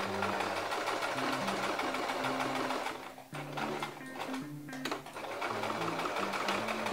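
A sewing machine stitches fabric for a small bow 1 cm from the edge, running in steady fast bursts with a brief slowdown partway through and a buzzing motor whirr close by.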